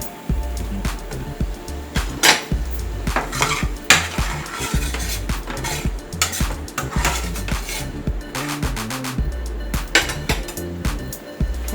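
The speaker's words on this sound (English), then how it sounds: "I know there's an easier way to cut these tomatoes" Repeated knife strokes chop tomatoes on a cutting board while making Tuscan chicken, a steady run of close, sharp taps and clatter with occasional louder knocks and no talking.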